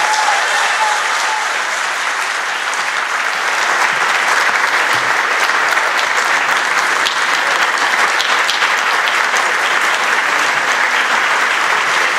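Audience at a celebration of life event giving a sustained round of applause, steady dense clapping from many hands that holds at full strength throughout.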